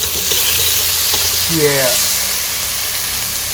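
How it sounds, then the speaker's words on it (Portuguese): Mirepoix vegetables toasting in a dry pan give a steady, loud sizzle and hiss throughout, with a brief voice speaking over it midway. "dando uma leve tostada nos meus legumes, para subir o sabor do legume a partir da reação de Maillard, nessa panela aqui mesmo, com ela seca"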